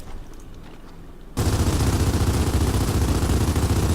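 Gunfire in the Gears of War 4 video game, a quiet lead-in then a sudden loud, sustained burst of rapid automatic fire that continues without pause.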